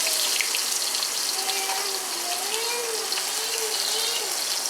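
Onions sizzle in a very hot pan on a NuWave induction cooktop, a steady broadband hiss that holds level throughout, with a faint tonal whine running beneath it.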